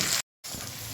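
Spice paste hits potatoes frying over high flame in a pan, giving a loud steady sizzle that cuts out briefly to silence, then resumes.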